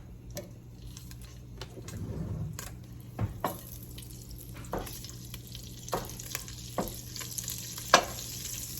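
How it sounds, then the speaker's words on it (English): Two teaspoons of olive oil and a tablespoon of butter melting in a pan, a steady soft sizzle with scattered light clicks and scrapes of stirring, close and fairly quiet. "We are going to get that melted down"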